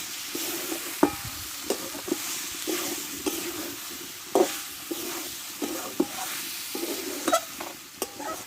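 Jackfruit curry being stirred in oil in a pan, with a steady background sizzle and a series of distinct spoon scrapes and knocks at irregular intervals, close and moderately loud.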